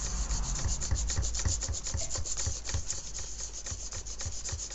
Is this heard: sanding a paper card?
yes